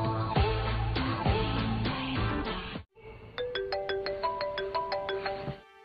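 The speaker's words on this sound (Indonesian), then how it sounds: "mendengar bunyi panggilan masuk di handphonenya" A mobile phone rings with an incoming call, a melodic ringtone of repeated bright chiming tones that plays loud and clear in two phrases, the second a steady pattern of regular pings.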